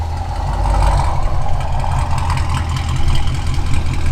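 A Camaro's X-pipe exhaust idles loudly up close, a deep rumbling drone with uneven pulses and no talking over it.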